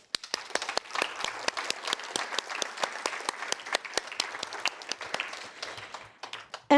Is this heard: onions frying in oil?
no